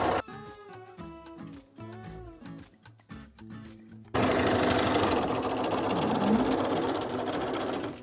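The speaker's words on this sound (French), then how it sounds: "Et tout le tour de ma couture, c'est-à-dire sur les 3 côtés, je surfile mon tissu pour renforcer la couture et éviter que le tissu ne s'effiloche" A sewing machine overcasts the raw fabric edges of a tote bag, starting with short, rhythmic bursts of stitching and then running continuously and loudly for several seconds, close up, with no talk.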